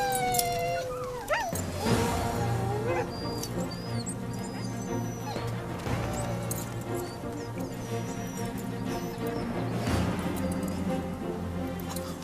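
Restless sled huskies in the snow howl and whine in overlapping, wavering cries, with rising and falling whimpers from several dogs close by.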